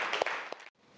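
Students in a classroom applaud a group after its presentation, with a short burst of clapping that fades out partway through and leaves near silence.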